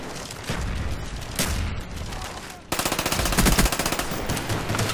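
A MAC-11 submachine gun fires in Call of Duty Black Ops as a rapid, loud automatic burst with a fast steady rhythm, following a stretch of dense game noise.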